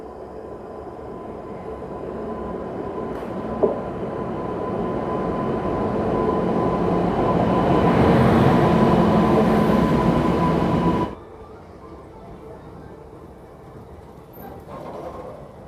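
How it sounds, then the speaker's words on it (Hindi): A Prayagraj Sangam–Kanpur Anwarganj passenger train passes close alongside a moving train. Its wheels rumble and build to a loud, steady roar before it suddenly drops away as the last car clears. "अभी अभी आपने जिस ट्रेन की क्रॉसिंग देखी हमारी ट्रेन के बगल से, वो थी प्रयागराज संगम कानपुर अनवरगंज पैसेंजर"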